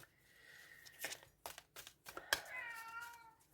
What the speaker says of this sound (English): Sorry about my kitty cat.